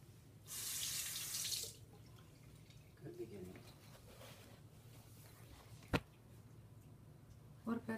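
A bathroom tap runs briefly in a loud burst of rushing water, then stops, followed by faint clinks, a sharp knock and quiet movement in the room.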